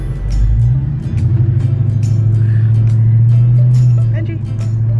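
A car driving on the road, steady loud engine rumble and tyre drone throughout with slight shifts in pitch, close and continuous, with some faint clicks and background noise over it.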